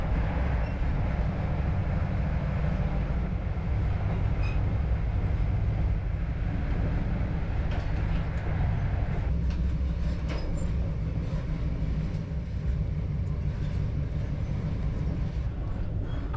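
An Inter7City HST train runs between Inverness and Perth through heavy rain and flooding, heard on board as a constant low rumble and rattle of wheels and carriage, steady and loud throughout.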